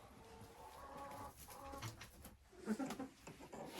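A rooster and hens in a farmyard, soft clucking and murmuring calls scattered over a quiet, faint background.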